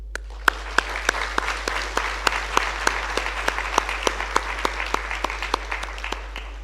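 Audience applause at a graduation ceremony, a steady run of close, sharp claps from a roomful of people that holds at an even level throughout, with no talking.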